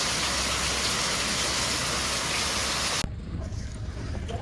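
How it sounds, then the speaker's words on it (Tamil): Rain falls hard outdoors in Mount Lavinia near Colombo as a dense, constant hiss, then cuts off abruptly near the end, leaving only quieter low rumbling background. "திரும்ப மழை பெய்ய வலிக்குது. மழை நல்லா பிடிச்சி மேயுது."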